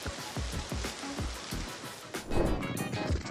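Steady rain on a cold, rainy day, a dense wash of close pattering drops with a few sharper splashes, growing slightly heavier toward the end, with no voices.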